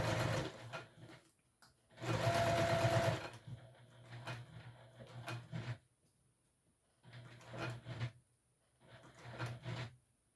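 Domestic sewing machine stitching a long-edge seam on a small fabric wristlet, heard in three separate bursts of steady mechanical whirring, the first longest, with quiet pauses and light handling noises between runs.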